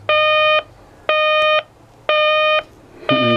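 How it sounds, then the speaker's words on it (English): A vintage 1970s Ken-Tec T-2078 alarm clock sounds its alarm in loud, pure electronic beeps, four evenly spaced half-second tones about once a second, close up with no talk. "Well, it should go off any second."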